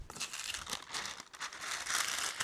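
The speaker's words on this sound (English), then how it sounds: "Grab some parchment paper." Parchment paper crumpled and crinkled in a kitchen while preparing a chess pie crust, a busy, continuous rustle with crisp bursts across the whole stretch, close and fairly loud, with no talking.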